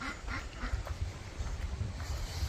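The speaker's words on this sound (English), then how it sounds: "And here's a bunch of maniac ducks." A flock of young hand-raised farm ducks quacks loudly and close by. The calls come in rapid overlapping bursts over a rumbling outdoor background, with no talking.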